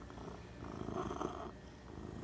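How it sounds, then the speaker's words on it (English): A rescue cat purrs close up, a soft continuous rumble that swells slightly in the middle and carries no voices. "You sitting there purring?"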